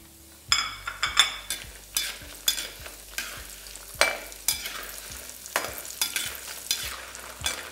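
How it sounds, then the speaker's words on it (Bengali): Lentil dumplings (bori) frying in hot oil in a pan for a Bengali mixed-vegetable curry, a close, loud sizzle broken by a steady series of scraping stirs and clinks of a spatula. "আর বাদামটা ভাজা হয়ে গেলে আমি এখানে ভেজে নেব বড়িগুলো।"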